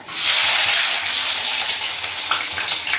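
Cumin seeds and curry leaves dropped into hot oil for a capsicum egg curry, a loud, close, continuous hiss of sizzling that flares up at once and keeps going without talk.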